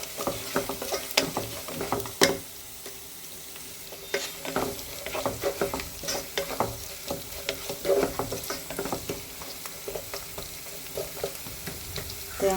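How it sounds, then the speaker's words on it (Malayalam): Coconut pieces frying in a Kerala-style chickpea curry, a steady crackling sizzle with scattered pops and spoon stirring, moderately close and alone without any talk. "തേങ്ങാക്കൊത്തൊന്ന് മൂത്ത് വരട്ടെ"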